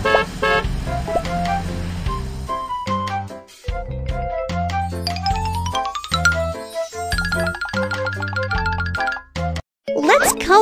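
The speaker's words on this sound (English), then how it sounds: "The car honks its horn." A cartoon car horn toots in a children's learning game about shapes, colours and numbers, sounding among bright chimes, dings and bouncy game music, with repeated short tonal beeps and jingles.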